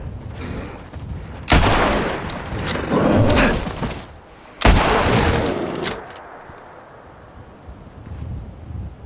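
Gunfire from a first-person video game shooter fired with a custom modded controller, two loud bursts of shots with a windy rushing tail, close and dominant, with no talking.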